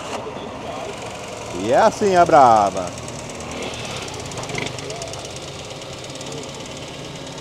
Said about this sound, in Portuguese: um amigo vai dar partida aqui no motor para a gente escutar ela funcionando